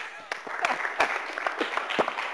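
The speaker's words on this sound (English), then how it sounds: "So please join with me in a warm round of applause for Dan Swanson." Short burst of audience applause at a live show in Hawaii, a dense wash of clapping with a few sharper individual claps standing out.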